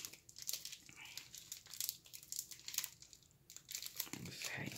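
A Classics NFL Experience Collection wax pack of trading cards being torn open by hand, a series of close, quiet crinkling and ripping sounds with a voice speaking faintly in the background.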